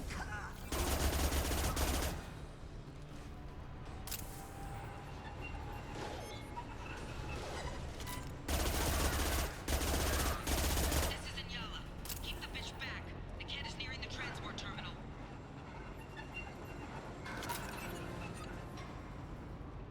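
Submachine gun fire in Mass Effect 2 rattles out in loud, dense bursts, one near the start, a longer stretch around the middle and a brief one near the end, with steady game combat noise between them.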